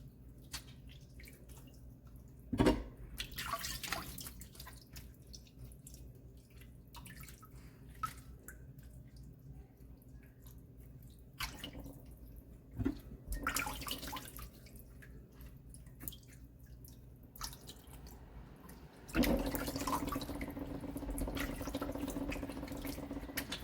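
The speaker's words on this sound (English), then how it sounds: "All you're doing is cleaning it in the water." Raw chicken is rinsed under a running tap at a kitchen sink, with close splashing and dripping that comes and goes in bursts and ends in a steady stream of flowing water.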